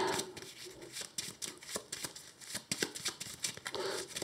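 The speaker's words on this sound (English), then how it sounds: "Just give a quick shuffle to my deck." A deck of Marvel Champions cards is given a quick riffle shuffle on a tabletop: a few rapid bursts of flicking card edges, close and fairly soft.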